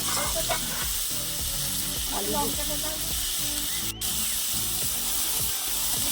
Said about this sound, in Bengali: এই যে দেখো আলু বেগুনটা ভালো করে একদম ভেজে নিয়ে